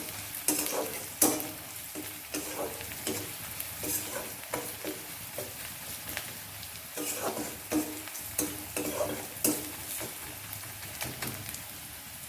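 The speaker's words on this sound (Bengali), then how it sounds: "পেঁয়াজ রসুনটা মোটামুটি ভাজা হয়ে গেছে।" Onion and garlic fry with salt and turmeric in a pan, giving a steady sizzle broken by repeated scraping strokes of a spoon stirring, close and fairly loud, with no talk.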